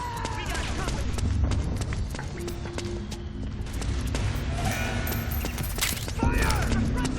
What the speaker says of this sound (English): Fire! Suppressing fire!